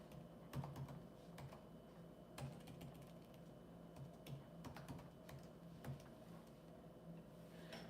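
Quiet keystrokes on a computer keyboard as a new password is entered, a few irregular clicks and short bursts of typing over faint room noise, with no voice.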